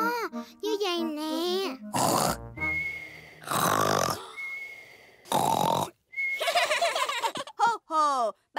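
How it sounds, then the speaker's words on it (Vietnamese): A cartoon pig uncle in the animated Peppa Pig series snores loudly in three heavy, rasping bursts, with a voice and other speech before and between them. "ba của con nói đúng, bác đúng là ngáy như vậy"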